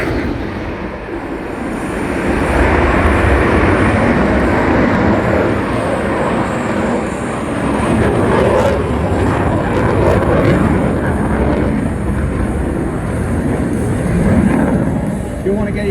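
A RAAF F/A-18 Hornet on afterburner roars past during an airshow display, a loud, broadband jet rumble that swells and holds throughout with a slight rise and fall, an announcer talking faintly over it.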